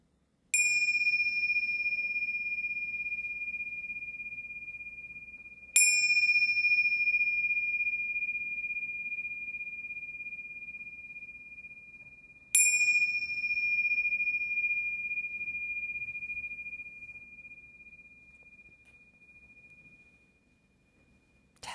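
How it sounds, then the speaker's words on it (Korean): A meditation bell is struck three times at even intervals, each a clear, pure ringing tone that slowly fades into quiet. "이제 종소리 3번을 치면 여러분 몸에서 종소리를 느껴보세요"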